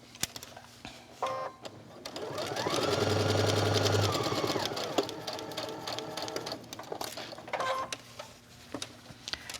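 Home sewing machine stitching around the sides of a decorative pillow, a steady whirring run that swells in the middle, with short stitch bursts and light clicks before and after.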